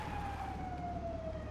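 A fire engine siren in the video game GTA 5 wails steadily, slowly falling in pitch over a constant loud engine and road drone, with no speech.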